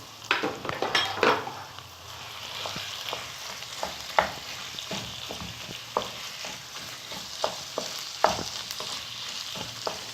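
Machine-minced beef or mutton keema frying with whole spices in a pan, a soft steady sizzle under scattered sharp clinks and scrapes of a spoon stirring against the metal.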